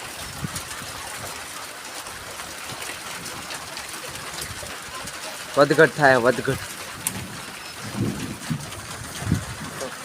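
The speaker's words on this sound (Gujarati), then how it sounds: "કડાક ભડાક સાથે છે વરસાદ" Steady hiss of rain with low rumbles of thunder toward the end; a voice speaks briefly in the middle.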